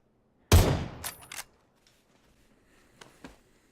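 Winchester rifle and pistol gunshots in a video game: one sharp, loud crack with a ringing decay, two quicker quieter shots just after, then a pair of faint, distant pops.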